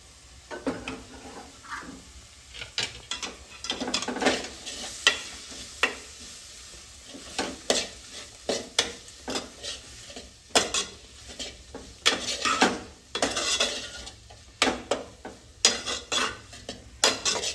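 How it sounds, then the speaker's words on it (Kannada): Fried okra stirred in a pan for benddi kayi palya: repeated scraping and clinking strokes of a metal spoon against the pan over a low sizzle, close and rhythmic, with no talk. "ನೋಡಿ, ಬೆಂಡೆಕಾಯಿ ಎಲ್ಲ ಮಿಕ್ಸ್ ಮಾಡಿಕೊಂಡೆ."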